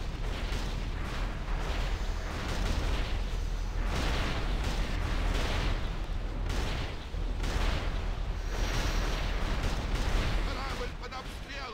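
Dense, continuous barrage of booming explosions and heavy gunfire as a ship comes under fire in a video game, loud and chaotic throughout, with little letup.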